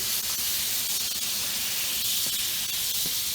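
Garlic bread pressed face down onto a hot Blackstone griddle gives off a steady, dense sizzle and hiss that runs without a break, loud and close, with no talking.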